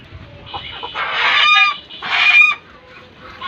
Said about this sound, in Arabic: فراخ الهندي